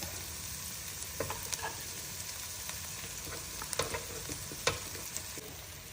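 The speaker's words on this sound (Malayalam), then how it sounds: "ചതച്ച് വെച്ചിരുന്ന ആ ഇഞ്ചി വെളുത്തുള്ളിയും കൂടെ ബാക്കി അങ്ങോട്ടിട്ട് ഇളക്കണം" Crushed ginger and garlic hit hot oil in a frying pan and are stirred, a steady close sizzle with scattered sharp spatula scrapes and clicks against the pan, no voices.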